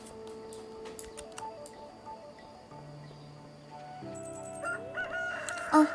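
Chickens on a farm in the Stardew Valley video game give brief crowing and clucking calls over soft, steady background game music and small ticking sounds, with a sharper burst near the end.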